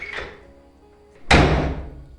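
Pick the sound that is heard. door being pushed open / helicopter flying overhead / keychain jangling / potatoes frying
door being pushed open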